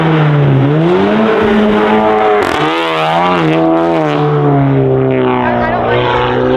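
Car with a loud, bad-sounding exhaust revving and droning at close range, engine pitch rising and falling steadily with a brief blip midway, voices talking over it.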